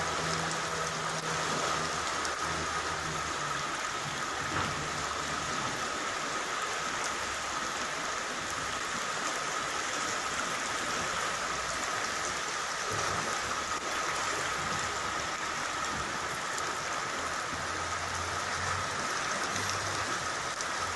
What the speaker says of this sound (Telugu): హైదరాబాద్ లో వర్ష బీభత్సం కొనసాగుతుంది